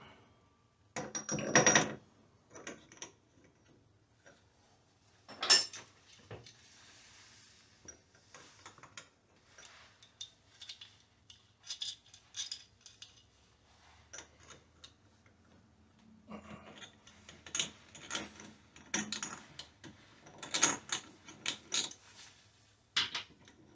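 A socket wrench ratchets a shower diverter valve loose, giving bursts of quick, dry mechanical clicks separated by pauses, close and fairly loud against a quiet room, with no speech.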